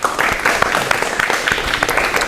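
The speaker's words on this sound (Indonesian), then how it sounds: "kita berikan aplaus ke kelompoknya Mas Taufik" A group applauds a student team in a classroom session on diagnosing electronic ignition system faults: many hands clapping fast and steadily close by, with faint murmuring underneath.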